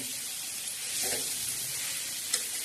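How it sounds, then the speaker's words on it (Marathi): Bitter gourd chutney stirred on a hot griddle over a low flame gives a soft, steady sizzle with faint scraping, quiet and continuous, with no voices. "चला आता आपण चटणी परत एकदा हलवून घेऊया अशी सारखी हलवत राहायची बारीक गॅस करून"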